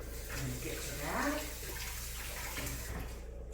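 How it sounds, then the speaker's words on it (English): Tap water runs into a sink while hands are washed in a home kitchen, giving a steady, fairly faint splash and hiss with some uneven sloshing. It continues throughout, with no talking. "I'm going to wash my hands and get to that"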